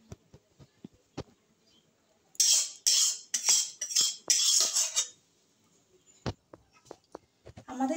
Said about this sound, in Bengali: আমি নামিয়ে নিচ্ছি প্লেটের মধ্যে।